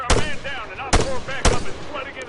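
Three loud, sharp gunshots in the video game Arma III ring out about half a second apart, each followed by ringing echoes and a voice speaking between them.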